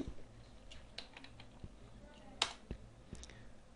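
Irregular, quiet clicks of typing on a computer keyboard, with a few sharper keystrokes standing out among softer taps.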